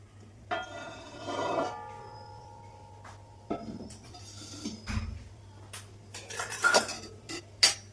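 A wok is set down on a stove, giving a metallic clunk and scattered rattles of cutlery and dishes in a quiet kitchen, with a brief sharp clink near the end.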